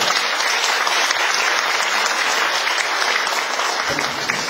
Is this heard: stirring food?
no